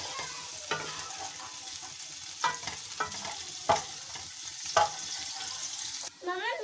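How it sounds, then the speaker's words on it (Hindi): Onions frying in oil in a pan, a steady sizzle with spoon stirs and scrapes clacking against the metal at intervals, close and moderately loud, with a faint voice murmuring briefly in the background. "और साथ ही इसमें मैं ये प्याज डाल रही हूँ। अब इसको हम ऑयल के साथ थोड़ा सा ये ब्राउन कलर देंगे।"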